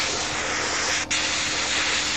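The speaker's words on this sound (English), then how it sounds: "And we're going to spray these guys on the sprue." Continuous airbrush or spray-can hiss while paint is sprayed onto miniature models still attached to their plastic sprue, loud and close, with one brief break near the middle.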